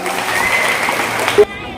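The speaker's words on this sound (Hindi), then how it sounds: "जोरदार ताली बनाइए" Applause for children receiving sports prizes at a school ceremony in Katihar, Bihar, sounds as a dense, steady crowd clapping for almost two seconds, with a voice over it, then stops abruptly.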